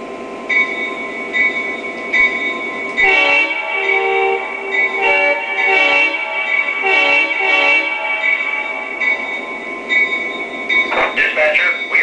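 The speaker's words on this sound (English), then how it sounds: "one of the sweetest horns I think I have on my layout right now" A model railroad train passes on a home layout, its horn sounding in a run of long and short blasts over a steady rolling rumble, fairly close and loud, with a final flurry of horn notes near the end; no speech.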